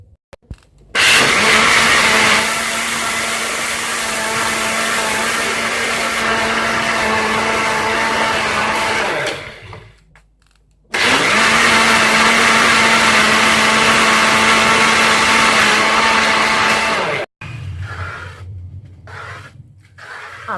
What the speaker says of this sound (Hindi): ग्राइंड करेंगे